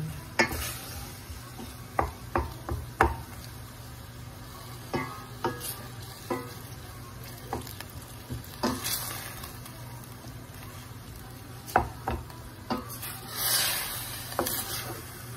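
Beef qeema browning in a pan with a spatula stirring it, a steady low sizzle under scraping strokes and irregular soft knocks against the pan, fairly quiet and close, no talk.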